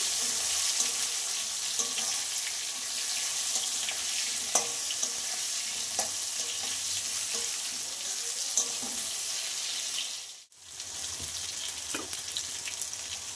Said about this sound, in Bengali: আলুগুলোর সাথে টমেটোটাও ভাজা হয়ে যাবে